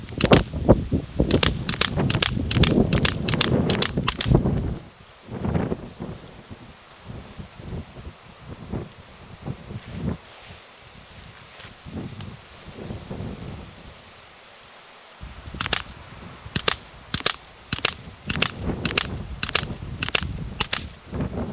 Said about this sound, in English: AR-15 type platform. And this one here shoots pellets, rifled barrel as well